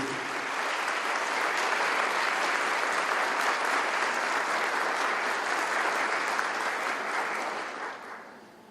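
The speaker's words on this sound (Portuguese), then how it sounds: "gostaria de dar uma salva de palmas para vocês" An audience at a closing keynote session of a conference applauds in a sustained, dense wash of clapping for around eight seconds, then fades off near the end, with no talk over it.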